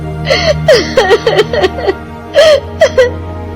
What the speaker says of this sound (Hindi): ऑफिस में कोई लड़की रो रही थी।